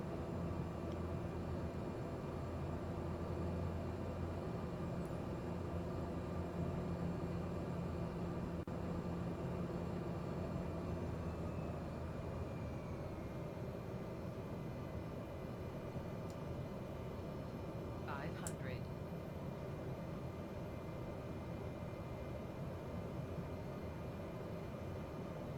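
Cessna Caravan turboprop in Microsoft Flight Simulator 2020 on short final, a steady broadband engine drone with low tonal hum holding throughout, close and continuous, with no talk.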